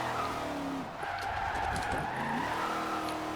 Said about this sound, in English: Like obviously has the V8 in it, so it's very loud, and it's kind of good to slide around a little bit